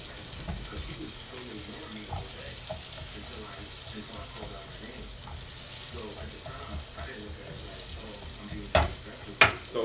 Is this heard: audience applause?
no